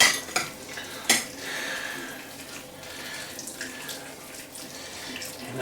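Fried rice ingredients are stirred together in a pan, giving faint clinks and scrapes of a utensil against the metal, with a couple of sharper knocks, under a steady kitchen background with no talking.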